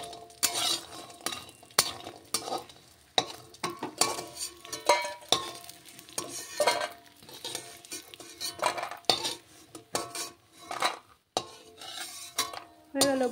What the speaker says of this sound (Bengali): বড়িগুলোকে কিন্তু একটু লাল লাল করে ভেজে নেওয়া হচ্ছে।